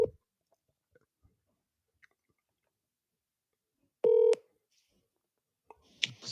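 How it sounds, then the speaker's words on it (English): A single telephone dialing tone sounds for a moment amid near silence and faint clicks, followed by a brief burst of noise at the end. "Let's call King Germ from Pod and Saved Our Marriage."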